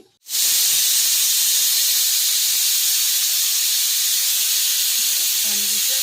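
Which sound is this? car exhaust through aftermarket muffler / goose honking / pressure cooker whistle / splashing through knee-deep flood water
pressure cooker whistle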